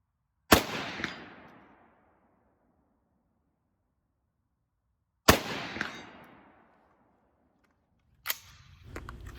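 Rifle shots from a .223 fired with Tula steel-cased ammunition at steel targets on an outdoor range: two sharp cracks several seconds apart, each trailing off in a long echo, then a third shot near the end over rising background noise.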